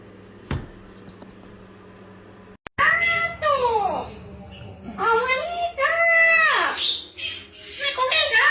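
A pet cat meows several times, close and clear, with long drawn-out calls that rise and fall, following a sharp thump.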